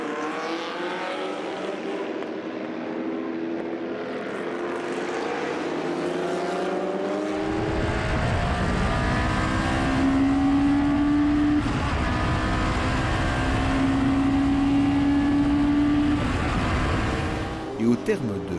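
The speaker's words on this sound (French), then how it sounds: "le plateau était des mieux garnis ce week-end avec entre autres 3 Porsche 917, rien que ça, dont celle de Claudio Rodaro" Historic race cars, including Porsche 917s and a Lola T70, roar past on a circuit, engines rising and falling through loud sustained passes, with a commentator speaking over them throughout.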